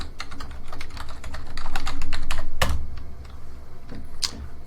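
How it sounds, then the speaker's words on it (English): Fingers type an email address on a computer keyboard: a quick, uneven run of close, crisp key clicks with one louder keystroke midway, no voices. "So here I'm just going to type in my email address."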